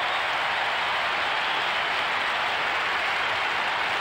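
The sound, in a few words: crowd applause at a 1998 Fremantle football match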